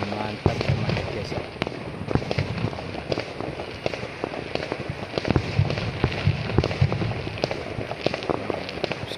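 Firecrackers and fireworks bursting during Chinese New Year celebrations in a Johor Bahru housing area, with dense rapid cracks and pops running continuously and loudly throughout, while people talk under the din.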